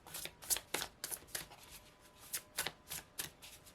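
Tarot cards being shuffled, a quiet series of quick papery riffles and flicks repeating in an uneven rhythm, close and alone.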